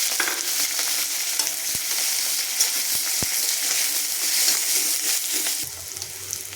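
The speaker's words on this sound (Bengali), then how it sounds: "পেঁয়াজটা মোটামুটি ভাজা হয়ে গেছে, গন্ধ বেরিয়ে গেছে" Chopped onions fry in hot oil in a kadai with dried red chilli and black cumin, a continuous bright sizzle with a few sharp clicks of stirring and a slight shift near the end.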